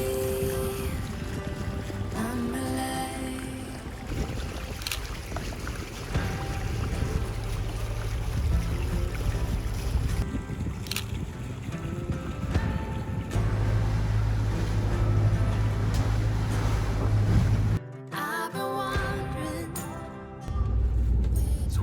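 A sailing catamaran motors along the Intracoastal Waterway on a single engine, a low steady drone beneath wind and water rush, with brief shifts and a sudden dropout partway through.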